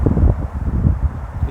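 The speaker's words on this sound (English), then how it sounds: "It is windy" Loud, gusty wind buffeting the microphone in low rumbling bursts, with no one speaking.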